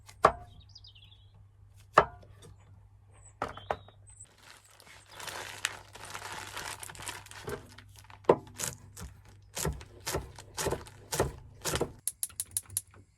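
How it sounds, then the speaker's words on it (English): A knife chops tiny mushrooms into small pieces on a board at a camp cooking setup, sharp close taps starting sparse and then speeding into a quicker irregular run of cuts. "I'm going to cut each of these tiny little mushrooms into small pieces"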